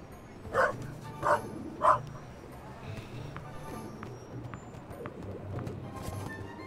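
A dog in The Raven Remastered game gives three short, evenly spaced barks close by at the start, followed by quiet ambient background.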